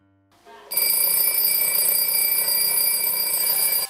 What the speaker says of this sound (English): Remember the good old non-digital alarm clocks?